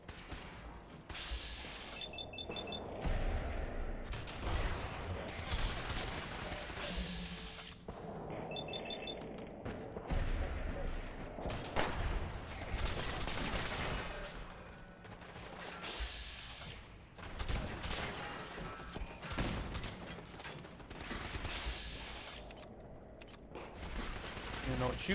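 Rapid bursts of automatic laser fire from an enemy's laser arm in the Fallout video game, loud and sustained in a dense busy mix with thuds and gameplay noise, a voice speaking over it.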